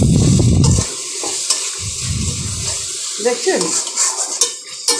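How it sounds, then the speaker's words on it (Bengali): Ground black pepper and cumin are stirred in a cooking pan: a spoon scrapes and clatters against the metal over a sizzling base, with loud bursts at the start and middle, and a voice speaks briefly. "গুঁড়োগুলো দিয়ে সব কিছু দিয়ে এবার নাড়ছি"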